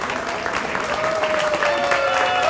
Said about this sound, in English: Give us a standing ovation.